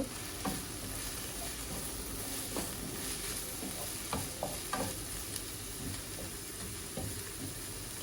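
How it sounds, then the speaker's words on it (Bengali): Dried chepa shutki fish, dried red chilies and black cumin fry in a pan with chopped onion, giving a steady close sizzle broken by a few sharp stirring scrapes. "2টো চেপা শুটকি আর 3টে শুকনো মরিচ আর কিছু কালো জিরে, সামান্য কিছু কালো জিরে দিয়ে ভালোভাবে এগুলো টেলে নিব।"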